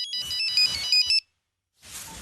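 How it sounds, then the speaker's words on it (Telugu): A phone ringtone plays on an outgoing call, a bright repeating electronic melody in short bursts, then a pause of silence before the next ring starts. "రింగ్ అవుతుంది."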